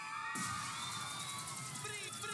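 Girls in a concert audience for a live stage performance scream loudly together, a sustained high-pitched crowd roar that starts abruptly and holds steady.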